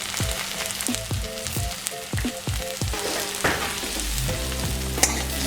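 A spatula works turmeric, chili, cumin and coriander powder into a sizzling paste in a pan for a rohu fish curry, with repeated rhythmic scraping strokes over continuous close frying hiss and no voices.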